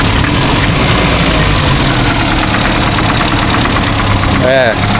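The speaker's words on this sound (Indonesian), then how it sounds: "suarane kreki setelan noken" A car engine idles steadily and close by, with a light mechanical rattle from the camshaft valve setting running under the even hum for the whole stretch.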